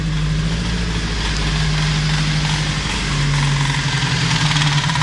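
A car engine runs at a steady idle, loud and close, with a constant low hum and a slight shift in pitch partway through, no voices.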